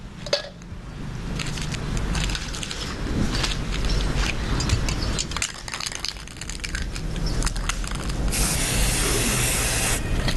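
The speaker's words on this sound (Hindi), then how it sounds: "अब ये स्प्रे पेंट मैं रेड कलर का ले रही हूँ।" Red spray paint hisses from an aerosol can onto a surface in a rooftop garden craft project, a steady broadband spray running almost continuously, with short gaps and a louder burst near the end.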